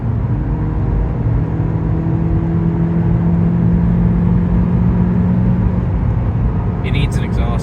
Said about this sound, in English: Sport mode, it holds the revs for a while.